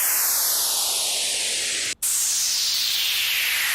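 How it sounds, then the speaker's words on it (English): A white-noise downshifter effect from the Rhythm Essentials Volume 2 sample pack, used in hardwave production, plays twice: bright hissing noise sweeps steadily downward, cuts out briefly, then sweeps down again, loud and alone. "See, that right there is basically the same thing, Downshifter, White Noise."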